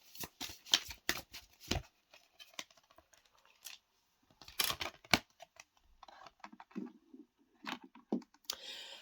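Tarot cards being shuffled and drawn by hand at a table: bursts of crisp riffling and flicking clicks, close and fairly quiet, separated by short pauses, with no talking.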